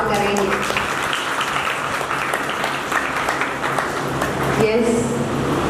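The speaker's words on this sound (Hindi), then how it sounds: "इनको तालियों से स्वागत करेंगे।" An audience at a meditation gathering in Hisar applauds to welcome newcomers, with sustained, dense clapping mixed with voices and ending in a brief louder swell.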